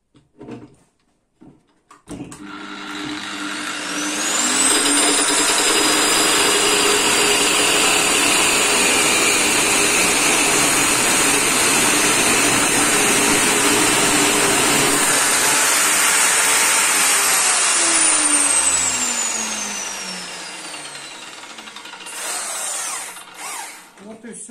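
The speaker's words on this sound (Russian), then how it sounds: "Подрезаем другую сторону." A lathe faces the second side of a metal washer, giving a loud, steady cutting and motor whine that holds for about fifteen seconds before winding down, with faint handling clatter at the start and end.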